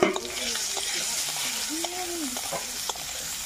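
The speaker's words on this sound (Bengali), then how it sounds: "একটু লবণ দিয়ে দেবো, একটু হলুদ দিয়ে দেবো, দিয়ে আমি আলুটা ভাজা ভাজা করে নেব।" Potatoes frying in oil with salt and turmeric, a close, steady sizzle with stirring scrapes and occasional taps, while a person talks over it.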